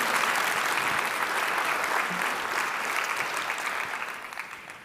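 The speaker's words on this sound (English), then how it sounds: "Give yourselves a round of applause." A large audience at a company conference claps in a sustained, dense wave of applause that stays loud and close before tapering off near the end.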